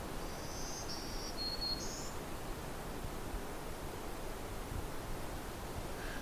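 Black-throated green warbler song rings out as a few short, high, buzzy phrases early on, fairly distant over steady wind and soft lake wash, with no talking.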